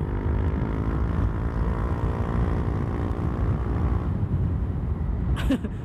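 A loud, steady exhaust on a Yamaha New Aerox scooter fitted with an aftermarket ROB1 exhaust drones throughout with a deep, throaty rumble, ending with a brief sharp click.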